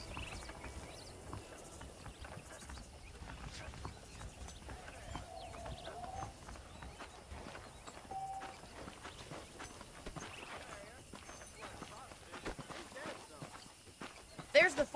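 Horse hooves clip-clop at a walking pace in Red Dead Redemption, a faint, steady rhythm under ongoing talk, with a sharper thump at the very end.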